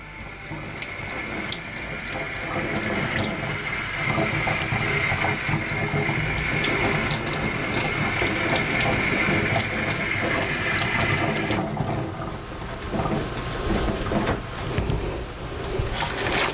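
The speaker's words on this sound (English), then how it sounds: "we're just going to add a little bit more water to the pot" Water pours steadily into a cooking pot holding deer roast and potatoes, a continuous near gushing splash running throughout with no talk.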